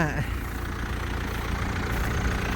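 A low, steady hay baler engine idles throughout, rumbling evenly with no change in pace.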